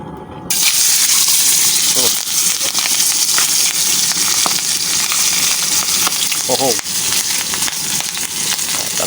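Milkfish (bangus) frying in used oil, a loud, steady sizzle and crackle that starts abruptly and continues throughout, with scattered sharper pops.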